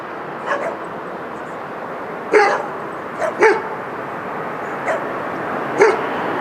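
Dogs at a country club bark in short separate bursts, several spaced yaps and woofs at moderate distance over steady outdoor background noise.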